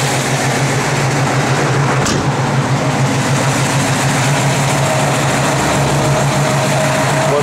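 1968 Chevrolet Camaro RS/SS convertible engine with solid lifters idling, a steady loud rumble with a busy mechanical ticking texture, close and continuous.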